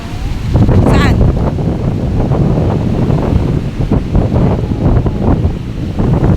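Ocean waves and gusting wind at a seaside outing, a loud continuous rushing roar with heavy wind buffeting on the microphone and a brief voice near the start.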